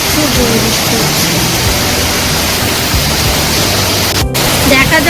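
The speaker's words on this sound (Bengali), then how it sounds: "জোর বৃষ্টি এসে গেছে, খুব জোর বৃষ্টি হচ্ছে।" Heavy evening rain pours down in Puri, a dense, unbroken roar of hissing downpour that stays loud and even throughout.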